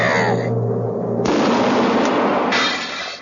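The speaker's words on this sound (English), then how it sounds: "It is time once again for a shot out of a cannon." A cannon fires in a loud burst: a deep, sustained booming rush that roars steadily for about three seconds before starting to fade.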